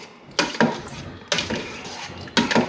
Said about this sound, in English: You gotta make sure you gotta stir it and make sure it gets to the bottom